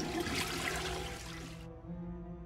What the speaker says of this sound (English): Flush toilet.